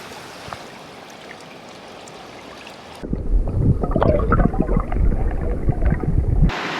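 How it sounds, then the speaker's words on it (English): A very small, shallow trout stream flows with a close, steady burbling and gurgling of water that starts abruptly partway through and continues loudly, with no talking. "This is a very shallow stream, very small."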